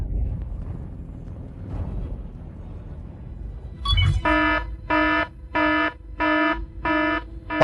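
An alarm sounds in four or five loud, evenly spaced electronic beeping bursts with short gaps between them, starting partway through after a stretch of low room noise.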